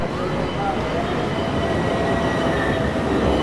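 A Naples train running, a steady broadband rumble of wheels and carriage noise at constant loudness throughout, close and continuous with no talk.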